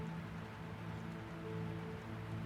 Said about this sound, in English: The rain falls outside